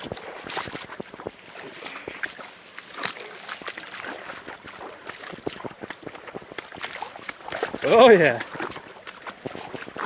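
Heavy rain falls through the forest on a hike, a continuous wash of patter with many crisp close drops, while a person speaks briefly near the end.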